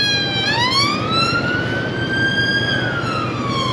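A loud siren sounds nearby in a slow wail, rising steadily and then falling, with traffic rumble underneath.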